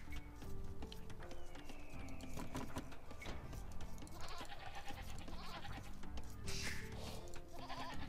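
Sheep in the Age of Empires video game bleat several times in a ranked team multiplayer match, the short calls rising over a busy bed of game noise and clicks.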